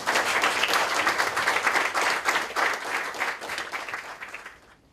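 An audience at a French-language stage performance gives a lively round of applause as a performer arrives. The clapping is dense and rhythmic at first, then thins and fades to silence near the end.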